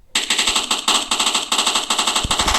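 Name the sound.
gunfire from a Minecraft gun mod, video game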